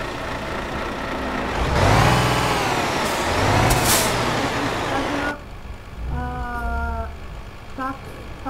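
A Volvo 750-horsepower truck in Euro Truck Simulator 2 idles loudly, then a long hiss of air-brake release swells and fades, followed by quieter engine rumble with a few short repeated beeps near the end.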